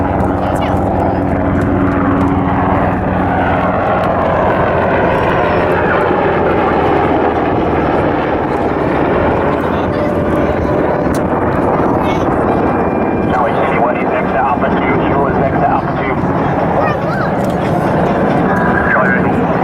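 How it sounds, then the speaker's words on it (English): Loud, steady rotor and engine roar of approaching Pave Hawk military helicopters at an air show, dense and continuous throughout, with voices faintly audible beneath the din. "Here come the Pavehawk helicopters."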